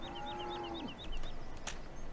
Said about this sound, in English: we can run through and show you some cows up close